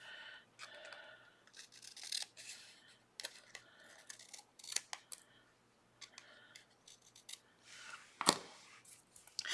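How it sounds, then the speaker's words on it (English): Scissors snip the edge off a scrap of Cricut infusible ink sheet: a series of quiet, crisp cuts and small rustles spread irregularly across the clip, with a sharper snip near the end. "I'm going to cut off this little edge."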